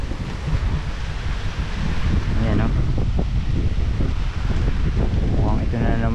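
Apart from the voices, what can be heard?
strong wind blowing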